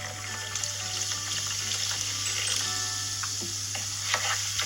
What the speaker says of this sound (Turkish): Bir şişe soda koyacağım arkadaşlar